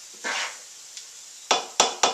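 Chili with beans and soyrizo goes into a skillet: a soft scrape, then three sharp metallic clanks of a utensil against the pan in quick succession, close and clear.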